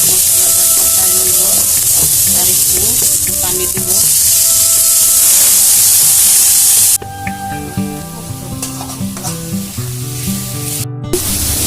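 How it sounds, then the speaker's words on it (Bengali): Loud, steady sizzling and hissing of spice paste frying in a pan for a Mirka fish curry, with stirring scrapes throughout and a sharp burst of spattering at the start before the frying settles into softer crackles. "ভালোভাবে ভেজে নেব মশলাটা"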